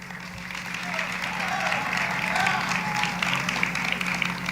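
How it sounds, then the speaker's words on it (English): Audience at a live university awards ceremony applauds the nominees, a steady, fairly faint wash of clapping that swells slightly midway, with a low hum underneath. "Okay, guys, we are at an award show. You can clap louder than that."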